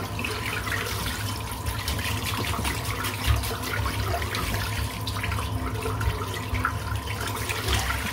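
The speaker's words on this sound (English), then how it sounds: "I'm going to rinse the brush out now" Tap water runs steadily into a sink while a shaving brush is rinsed, a continuous close splashing flow with no talk.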